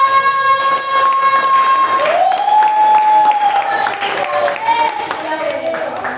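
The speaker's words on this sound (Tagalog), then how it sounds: "Malakas na palakpak!" A congregation at a prayer vigil bursts into loud sustained clapping, a close, dense wash of hands filling the room while a held musical tone plays underneath.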